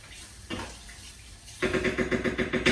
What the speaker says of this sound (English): Rinse that off. Wash it with some water.